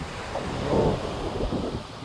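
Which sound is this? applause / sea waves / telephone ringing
sea waves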